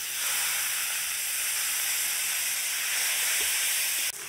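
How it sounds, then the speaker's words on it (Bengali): Black cumin and chopped onion hit overly hot oil, making a loud, continuous hissing sizzle that holds steady for several seconds and then drops abruptly at the end. "তেলটা একটু বেশি গরম হয়ে গেছিল, তাই কালো জিরে দেওয়ার পরই আমি পেঁয়াজ কুচিগুলো দিয়ে দিলাম"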